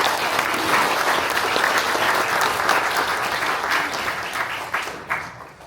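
Congregation at a church elder ordination service applauding steadily, a dense, sustained wash of clapping from many hands that fades slightly toward the end.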